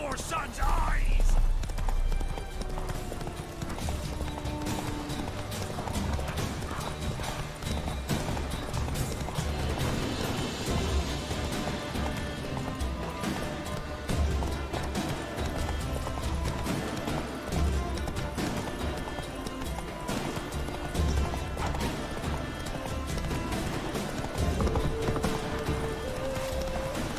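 Roach, the horse in The Witcher 3, gallops with a fast, continuous clatter of hooves up close, an unbroken rhythmic pounding lasting the whole stretch, while game voices and background music play underneath.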